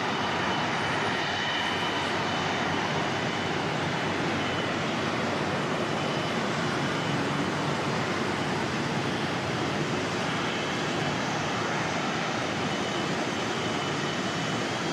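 An Airbus A330 jet takes off at Auckland Airport, a loud, steady broadband roar that holds for the whole stretch without a break and with no one talking.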